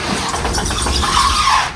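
A 1967 International Scout 800 braking slowly on a downhill, with a rough rumble and a brief high brake squeal near the end before the sound drops away.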